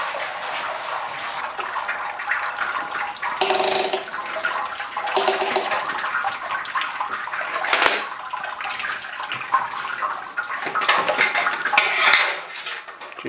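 Wort draining from a hoisted mash basket on a Clawhammer Supply home brewing system, a steady splashing pour with occasional louder gushes and metallic clanks nearby.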